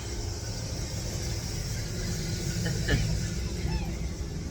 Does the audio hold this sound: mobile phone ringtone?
no